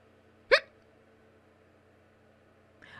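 One loud, abrupt hiccup sounds close by, then the room stays nearly silent, with only a faint rustle near the end.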